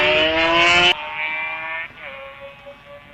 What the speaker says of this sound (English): Little two-stroke engine there, buzzing away.